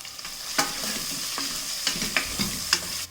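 Crushed ginger, garlic and green chilies sizzle with curry leaves in hot oil, a soft steady frying hiss punctuated by several sharp spatula clinks and stirs.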